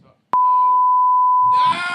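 A loud, steady censor beep tone laid over talk on a comedy radio show, lasting about a second and a half, with a voice heard before and after it.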